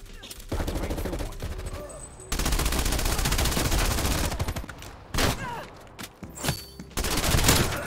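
Rapid bursts of PPSh submachine gun fire in the shooter game Call of Duty Cold War, loud and close, several sustained strings of automatic shots separated by short pauses and single cracks.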